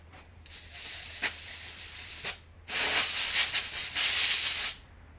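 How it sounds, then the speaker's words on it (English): Compressed air from an air compressor blowing gunk off a carburettor filter, two long loud hissing bursts with a short pause between, close and alone. "grab your air compressor and give it a bit of a blow off"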